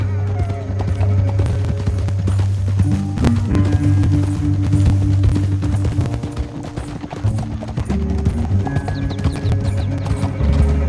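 Horse hooves clip-clop at a steady pace in Red Dead Redemption 2, running under a sustained musical score.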